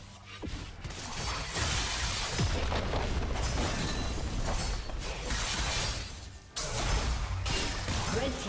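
Turret destroyed in League of Legends, a loud sustained crumbling crash with shattering debris and booming rumble, dropping out briefly before another burst of smashing, with no talk.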